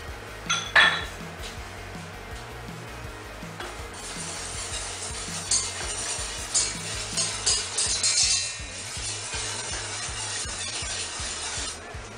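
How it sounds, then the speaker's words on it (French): Beaten egg yolks and whites being stirred into lemon juice, cornstarch and sugar in a bowl, with a utensil clinking and scraping against the dish in steady, close, moderately loud strokes. "Et nous allons incorporer nos jaunes et nos blancs d'œufs battus en remuant comme ceci."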